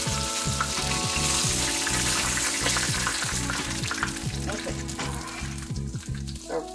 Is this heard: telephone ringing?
no